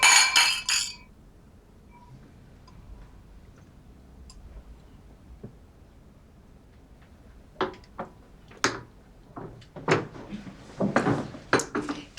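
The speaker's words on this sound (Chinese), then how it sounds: "那我们喝一杯吧， 干杯！" Glasses clinking during a toast at a housewarming party, a cluster of bright clinks at the start, then scattered light glassy taps and knocks building toward the end, close and with no voices.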